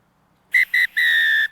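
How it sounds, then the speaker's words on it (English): A referee's whistle at halftime of a rugby sevens match sounds sharp and close: two short blasts followed by one long sustained blast, alone with no voices. "But with that whistle, we're at halftime."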